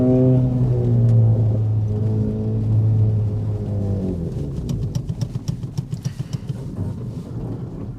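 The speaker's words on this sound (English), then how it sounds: "You can definitely hear the car." A car drives slowly as it pulls out, first with a deep, steady engine drone, then with a run of quick rattling knocks and bumps near the end.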